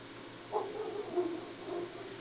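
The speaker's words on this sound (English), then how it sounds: "you hear the dogs in the background barking at the employees coming in" Dogs bark faintly at a distance in a few scattered yaps and whimpers over a steady low hum, with no talk during the barking.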